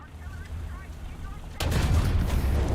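In War Thunder, a tank gun fires with a sudden loud boom partway through, after a stretch of quieter engine rumble, and the blast's heavy rumble carries on to the end.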